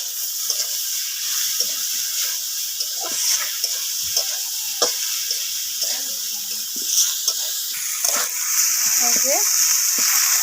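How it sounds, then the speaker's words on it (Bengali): Leafy greens stir-frying in a pan after water is added, giving a loud continuous sizzle and hiss with scattered scraping and stirring knocks close by. "জল দিয়ে আমি শাকটা দিয়ে দিলাম"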